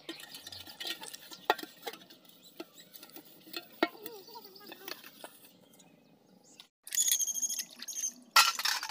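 Utensils and a bucket being scrubbed and rinsed at a village bathing ghat on a winter morning, with scattered clinks and scraping patter followed by louder splashing water near the end, no talking.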